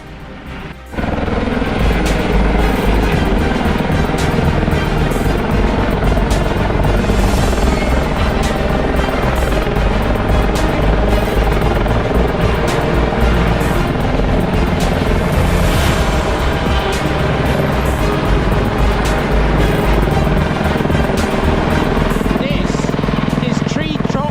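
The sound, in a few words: helicopter flying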